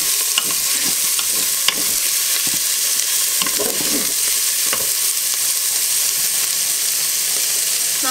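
Meatballs fry in a pan and are stirred with a utensil, giving a steady loud sizzle throughout, broken by occasional scraping and clinking strokes as the pieces are turned.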